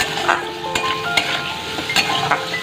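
Salted chutney frying in a pan while being stirred, a continuous close sizzle punctuated by repeated light scrapes and clinks of the spoon in a loose rhythm.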